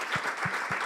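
Church congregation applauding together, a dense, steady wash of many hands clapping at moderate distance, with a few heavier low thumps pulsing through it.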